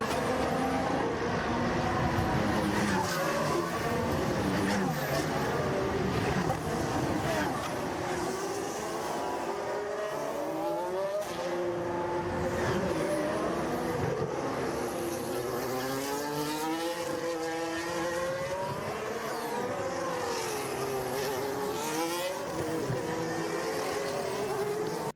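Formula One race cars at the 2021 Abu Dhabi Grand Prix, a continuous loud engine roar with high whining tones rising and falling as cars accelerate and pass, heard as broadcast track sound with no commentary.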